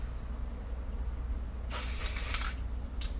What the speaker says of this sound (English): But Blade, I can't use spray paint.